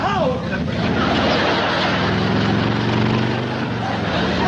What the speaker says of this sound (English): Some crazy kid is racing up down your driveway on a motorcycle.